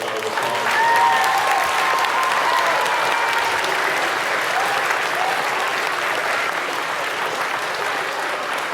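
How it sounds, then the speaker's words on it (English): A school assembly audience at an elementary school Veterans Day program applauds steadily after a band performance, dense sustained clapping from a large crowd with a few faint whistles, holding an even level throughout. "How about another round of applause?"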